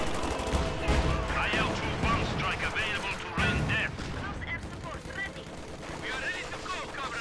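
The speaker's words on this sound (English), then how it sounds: "Armor-piercing incendiary rounds being fired." Gunfire and artillery in a World War II strategy video game, with dense rattling shots and heavy booms blending into a continuous battle din at moderate level.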